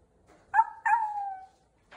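Someone mimics a dog at a talent show, two quick close vocal yips or barks, the second stretched into a falling whine, with silence around them.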